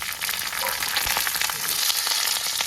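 Dried red chillies frying in a pan for chutney, giving a steady, close, dense crackling sizzle that runs unbroken throughout with no voices.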